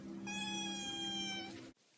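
A single drawn-out cat meow, clear and close, lasting about a second and a half before cutting off abruptly into quiet.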